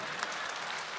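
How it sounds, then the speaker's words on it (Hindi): A hall audience applauds at a Republic Day poetry gathering in Dubai, a steady dense wash of clapping at moderate distance. "पूरे हॉल से मुझे तालियां मिलनी चाहिए"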